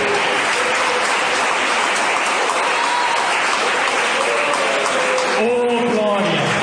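A church congregation claps in praise, producing a dense, continuous wash of applause that fills the room, with a voice speaking or singing faintly over it.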